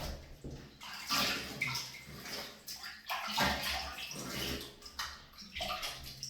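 A double-edge safety razor sloshes and swishes through a bowl of cold water set on a toilet seat, with continuous splashing, gurgling rinse sounds close by.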